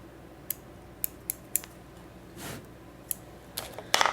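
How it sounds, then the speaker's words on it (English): Small scissors trimming fly-tying material at a vise: a series of sharp, isolated snips spaced about half a second apart, then a softer rustle and a final cluster of quick cuts, close and clear. "Just going to trim a little material here."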